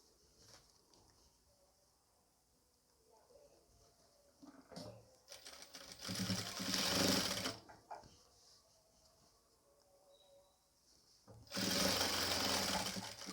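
A sewing machine stitching an N-style nighty runs in two rapid mechanical bursts, a shorter one then another after a pause, with quiet handling and fabric shuffling between.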